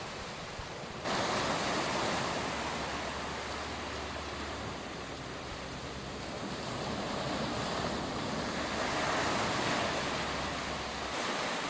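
Ocean waves wash onto the rocky shore at Acadia National Park, a loud, continuous roar of surf with slow swells in intensity, close and enveloping, with no voices.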